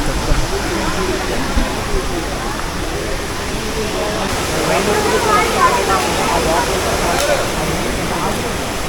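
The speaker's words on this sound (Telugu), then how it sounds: "సో ఇదే వాటర్ ఫాల్ చూడాల్సింది." Steady broadband roar of a waterfall in the forested hills of Maredumilli, loud and continuous like rushing water, holding even with no voices over it.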